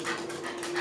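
A puppy panting up close, quick steady breaths over a faint tonal hum, with no one talking.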